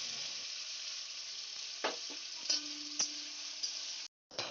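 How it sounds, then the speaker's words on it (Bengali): Spice paste, dried red chillies and nigella seeds fry in hot mustard oil in a wok, giving a continuous bright sizzle with a few stirring clicks and a brief cut near the end. "এরপরে মশলাটাকে খানিকক্ষণ সময় ধরে একটু ভেজে নিতে হবে।"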